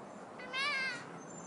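A single short cat meow, faint and rising then falling, heard alone against quiet background noise.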